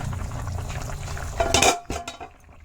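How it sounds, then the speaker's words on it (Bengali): A lid being lifted off a cooking pan of simmering ash gourd and soya chunk curry, a soft bubbling background broken by a bright metallic clink and rattle as the lid comes away, close by, without speech. "ঢাকনাটা সরাইলাম"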